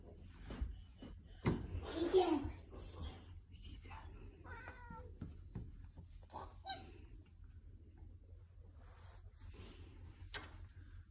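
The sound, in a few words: cat meowing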